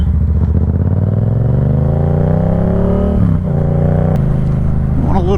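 A Triumph Daytona 675 motorcycle is ridden fast through a neighborhood, its engine loud and close as it revs up through rising pitches, briefly drops off between gears and climbs again, with a voice talking over it.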